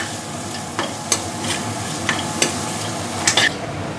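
Masala frying for fish curry being stirred in a pan, an even sizzle punctuated by several sharp scrapes of the spatula at irregular intervals, close up with no talking.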